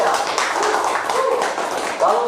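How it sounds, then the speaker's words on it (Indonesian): Audience applause at a PAN millennial caucus gathering in Cianjur, Indonesia: a dense patter of clapping under an announcer's voice, swelling slightly toward the end. "Beri tepuk tangan yang meriah."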